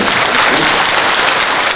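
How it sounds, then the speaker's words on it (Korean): Loud, dense applause from a lecture audience at a community association talk in Hongcheon, a steady wash of clapping filling the whole stretch with no voices on top. "우리 진짜 박수 한번"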